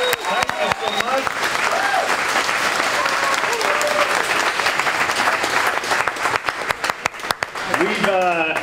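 An audience applauds at a restaurant ribbon cutting for a Cafe Rio in Spanish Fork, Utah: loud, dense clapping with cheers and scattered voices throughout, and a speaker's voice breaking in near the end.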